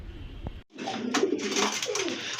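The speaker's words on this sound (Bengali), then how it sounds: "এক জোড়া কবুতর, এটা হচ্ছে সিলভার কালারের ভিতরে বিগ সাইজের লাহোরি কবুতর" A pair of big, silver-coloured Lahori pigeons cooing up close, a short throaty, rolling coo following a brief soft sound and a moment of quiet.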